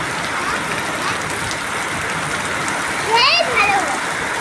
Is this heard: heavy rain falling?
yes